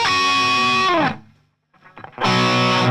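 Distorted electric guitar with delay and reverb plays the opening of a chorus, with a loud sustained chord fading out, a short quiet gap, a few muted crunches, then another loud ringing chord.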